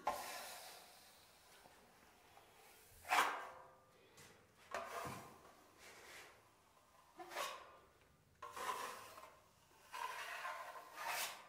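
A traditional plastering trowel spreads and smooths filler across a wall in intermittent soft scraping strokes, each a faint rasping swish separated by quiet pauses.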